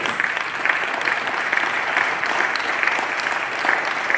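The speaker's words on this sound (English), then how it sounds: "take a bow as we give them a round of applause" In a provincial legislature chamber, members give a school's sports team a round of applause, a moderately loud, steady patter of many hands that continues evenly throughout.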